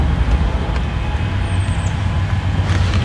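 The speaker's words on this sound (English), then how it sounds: "Alright, here's the auto train." A rumbling, steady Amtrak Auto Train rolls past with continuous low rail and wagon noise, fairly loud and unbroken throughout, with no voices over it.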